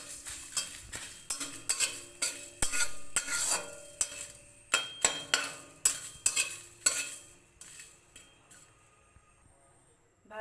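Frying over a low gas flame in a pan, a soft sizzle beneath a regular series of sharp metal stirring scrapes that slow and fade toward the end.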